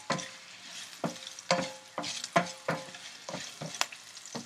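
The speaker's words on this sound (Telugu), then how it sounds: "పోపు వేయించేటప్పుడు ఇలా కలిపి పెడుతూ ఉంటే మాడిపోకుండా ఉంటుంది" Tempering spices with asafoetida frying in a pan for Andhra pumpkin curry, soft sizzling under repeated scraping strokes of a spoon stirring, roughly one every half second, close and moderately loud.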